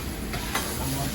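Onions and peppers frying in oil on a griddle, a steady dense sizzle that fills the moment, close and fairly loud, with no break in the crackle.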